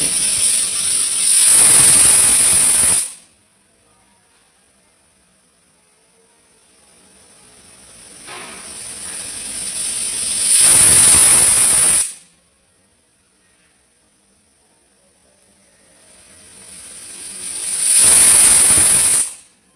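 A pressure cooker on the stove lets out three loud hissing whistles of steam, each building up over a few seconds and cutting off sharply, separated by quiet gaps, while a vegetable masala bath cooks.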